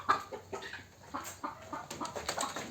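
Several chickens cluck softly in scattered bursts inside a poultry shed on a goat and poultry farm, somewhat distant, with no talking.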